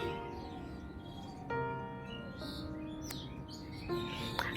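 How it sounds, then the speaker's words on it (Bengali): Birds chirping outdoors at a family home in the morning, several short, faint tweets and call notes scattered over a quiet background, with no talking. "আর পাখির আওয়াজ শুনতে পাচ্ছ"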